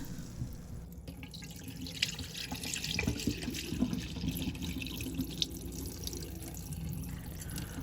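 Rice is washed in water to rinse out the starch, with running tap water, splashes and drips sloshing continuously at close range and occasional sharper clinks.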